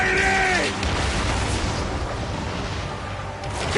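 Ship cannons fire in a naval battle in Assassin's Creed Origins, a broad, rumbling barrage of booms that rolls on continuously over several seconds, loud and dense, with shouting voices at the start.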